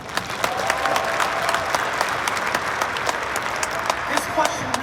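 Audience applause filling a keynote hall, steady dense clapping sustained throughout with a few sharper claps standing out near the end.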